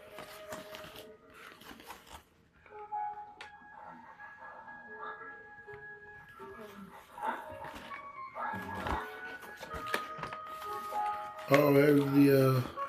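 A dog whimpers and barks from a film playing in the room, the sounds thin and intermittent through the soundtrack music, with someone talking close by over it.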